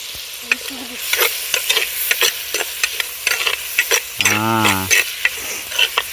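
Curry leaves sizzle in hot oil in a pan for a country chicken egg curry while a spoon stirs them, scraping and clinking against the metal in quick irregular strokes over a steady frying hiss, close and fairly loud.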